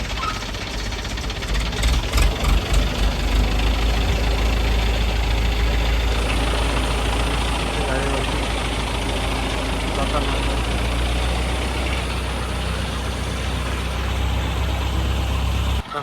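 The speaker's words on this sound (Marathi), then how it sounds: "बघू शकता मित्रांनो आपला जनरेटर" A new Ashok Leyland generator engine runs with a steady, close, low rumbling idle and a knocking texture throughout, with voices faintly mixed in.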